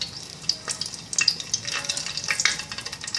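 Mastic and cardamom frying in hot oil in a pot, a bright crackling sizzle with rapid popping spits and light stirring, close and steady, no talk.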